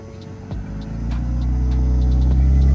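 A drift project car's engine with BMW Vanos variable valve timing runs with a steady low rumble and hum that slowly grows louder and fuller, close to the microphone, with no voices.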